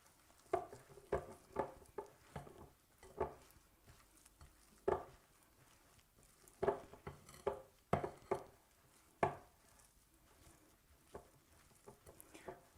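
A spoon stirs thick Welsh cake dough in a bowl, making repeated soft scraping thuds and clinks in uneven bursts, close and quiet, with no talking.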